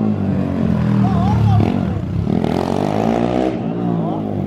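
A Honda CG 150 motorcycle built to 221cc with a freshly rebuilt engine revs up and down loudly nearby, its pitch rising and falling, with people talking over it.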